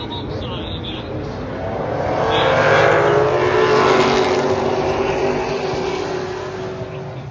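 Steel body hot rods race around Sauble Speedway, engines swelling as cars roar past close by, peaking midway before fading into a steady drone beneath a track announcer.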